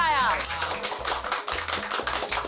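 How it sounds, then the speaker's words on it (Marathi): Loud, dense clapping from a small group at home, steady throughout after a brief chime-like tone at the start, with low background hum. "जोरदार टाळ्या."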